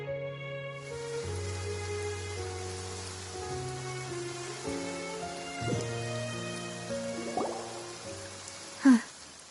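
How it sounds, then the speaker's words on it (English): Steady rain falling in the video game Genshin Impact, a soft continuous patter under gentle background music, with no talking. "It's been raining non-stop for a few days now."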